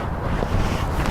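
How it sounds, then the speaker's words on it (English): Steady low buffeting wind noise on the microphone, a dense rumbling roar filling the whole short stretch. "it's kind of windy, so I'll try to face away from the wind a little bit"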